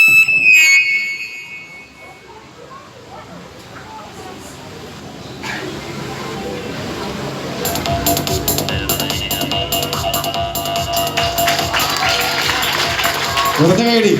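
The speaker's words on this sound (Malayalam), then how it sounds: "കുറഞ്ഞ കൈയടി" An audience gives a light, sparse round of applause, the scattered claps building into a steady rhythmic patter over the last several seconds, with voices and room noise underneath.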